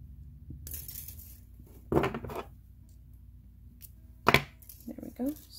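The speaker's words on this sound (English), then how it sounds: "And I'm gonna snip this one." Sharp-tipped wire cutters snip jewelry wire during chainmaille necklace wire wrapping, giving two short, crisp clicks, one near two seconds and a sharper one later, over quiet room noise with faint speech.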